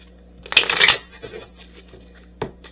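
Tarot cards are shuffled in a brief close flurry of riffling, followed by quieter soft handling and a single sharp snap near the end, with no talk.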